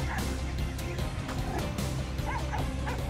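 A dog chained beside a monkey barks, yips and whimpers in rapid, loud bursts during a scuffle over food, close by and agitated.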